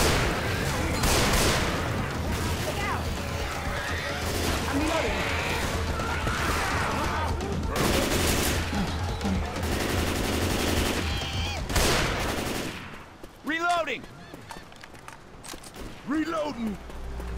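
Rapid gunfire from a Left 4 Dead 2 firefight on the Urban Flight map, dense and loud for most of the stretch with repeated bursts, then thinning near the end as game voices call out over the shooting.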